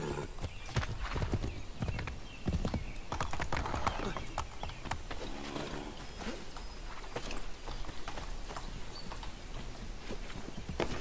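Horse hooves clip-clopping in Assassin's Creed 3, a brisk, rhythmic run of hoofbeats with an occasional whinny, heard under someone talking.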